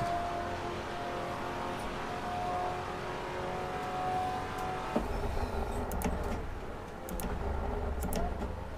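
A Maserati Quattroporte GTS in the Assetto Corsa racing game: a steady, droning engine note holds through the lap, with a brief change around the middle and faint clicks and ticks over the engine.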